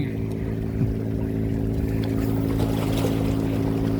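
A small motorboat comes ashore with a steady, low engine drone and hum that runs the whole time at an even level, with a little water noise and no voices.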